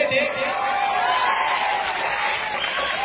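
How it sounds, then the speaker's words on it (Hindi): Audience applause for the performer Arya Nandini at a live Bhojpuri stage show, a steady wash of clapping and crowd noise sustained at an even level throughout, with vocal tones sounding through it. "लेकिन आप आर्या नंदिनी के लिए तालियां नहीं बजाना चाहते?"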